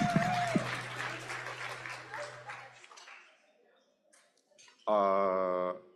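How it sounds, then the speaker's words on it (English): Applause at a candlelight banquet ripples through the room for a few seconds under a steady hum and tones, then fades into quiet before a brief loud sustained tonal burst near the end. "No, you should applaud, please, applaud."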